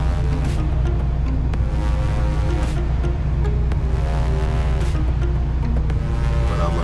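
A Honda S2000 fitted with a K24 engine drives along back roads, its steady engine drone and road noise continuous and close throughout, with no talking.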